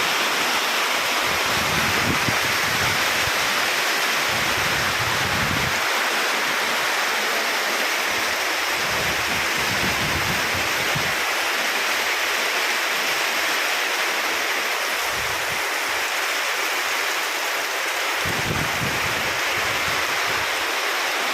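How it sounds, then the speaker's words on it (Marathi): Heavy monsoon rain pours in a steady, dense roar that holds evenly throughout, with no voices. "एकदम जोरदार पाऊस"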